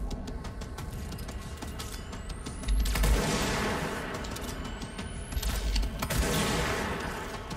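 Enemies firing on the player in the video game Control, two heavy bursts of gunfire roughly three seconds apart, each with a rising whine, over a constant busy backdrop of combat noise.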